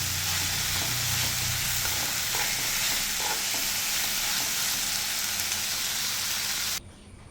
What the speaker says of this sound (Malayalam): മല്ലിയിലയും കൂടി ഇട്ട് നന്നായിട്ട് വഴറ്റണം